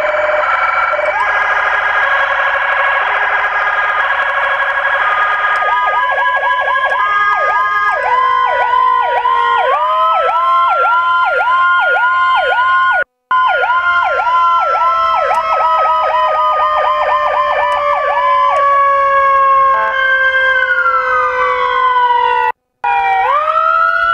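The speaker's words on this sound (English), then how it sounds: "there's a ton of siren tones in this thing" Whelen Core siren on a Ford F150 fire vehicle cycles through several tones: a steady high wail, then fast yelp sweeps and rising-falling patterns, loud and close, with two brief cutouts between tone changes.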